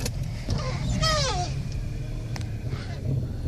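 A 1997 Jeep Cherokee with the 4.0 engine idles in a steady low rumble after a cold start, while a rising electric power-window whine passes briefly over it.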